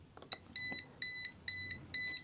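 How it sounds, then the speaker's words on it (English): A non-contact AC voltage tester emits four sharp, identical high-pitched electronic beeps in an even rhythm, close and clear, preceded by a few soft handling clicks. "that one beeps"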